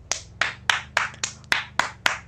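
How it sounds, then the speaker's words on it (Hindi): Eight sharp hand claps in a steady, fairly slow rhythm, close and distinct, with a faint low hum underneath. "हम खुद के लिए खुद की तालियां बजाएंगे"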